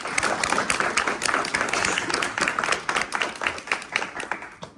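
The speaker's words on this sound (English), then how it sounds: "let's give a preliminary round of applause for our speakers tonight" Audience applause for the speakers at an evening talk on psychedelic therapy for veterans: many hands clapping densely and continuously at close range, with no voices over it.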